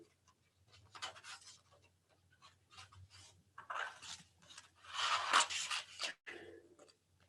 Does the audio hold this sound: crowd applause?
no